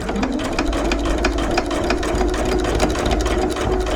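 A sewing machine with a walking foot stitches across thick seams of a bag, a steady rapid mechanical clatter with a fast regular needle rhythm, close and continuous, with no voices.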